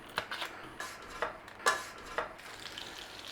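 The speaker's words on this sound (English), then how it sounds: "we're going to chuck some butter in" Butter going into a hot pan with garlic, with a few clinking utensil hits and a soft sizzle building underneath, close and moderately loud, no talking.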